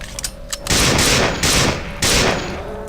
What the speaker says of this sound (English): Good thing our assault rifle does so much work.